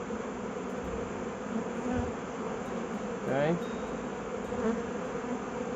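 Honeybees buzz in a continuous droning hum close by at an opened hive during feeding, beside a sugar frame, with a brief louder swell partway through.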